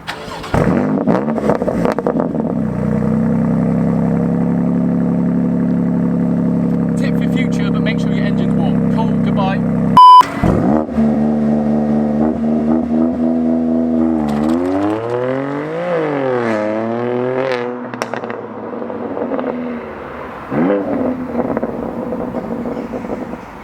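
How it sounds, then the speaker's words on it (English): BMW M2 in Sport Plus mode starting up, a loud engine catch near the ten-second mark followed by a quick throttle blip and pop, then a rising and falling rev as the engine settles into a steady idle. "Sport Plus startup. Gonna tap the throttle very quickly after I start it up, and you'll get a nice little pop."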